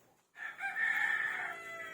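A single rooster crows nearby, one drawn-out call rising in after a brief silence.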